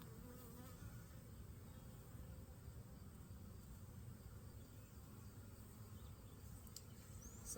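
Honeybees at an open hive make a steady, low, continuous buzz, close and even, with no talking over it.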